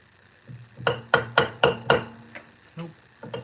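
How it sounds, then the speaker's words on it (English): A brass hammer strikes a stuck bolt five times in quick, even succession, loud close metallic knocks, then a pause and a few lighter taps. "Let's get it here with a brass hammer."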